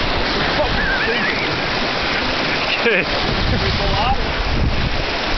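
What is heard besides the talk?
water splashing into a boat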